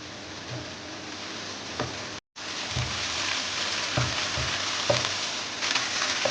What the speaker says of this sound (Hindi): अब इसका फ्लेम थोड़ा मीडियम टू लो कर दें और इसको अच्छे तरीके से भून लें।